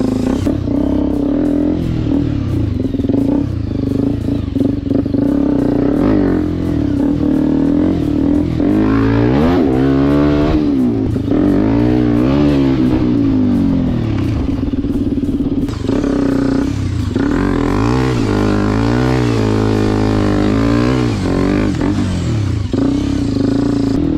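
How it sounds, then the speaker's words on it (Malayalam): Hero Xpulse 210 motorcycle fitted with a Norifuma full-system exhaust, engine revving repeatedly with rising and falling pitch over a loud, rough idle, close and continuous with some clatter. "ബൈക്കിൽ നോറിഫ്യൂമയുടെ എക്സോസ്റ്റ് ആഡ് ചെയ്തിട്ടുണ്ട്. ഫുൾ സിസ്റ്റം ആയിട്ടാണ് വരുന്നത്. ആ ഒരു സൗണ്ട് കേട്ടപ്പോൾ നിങ്ങൾക്ക് മനസ്സിലായിട്ടുണ്ടാവും"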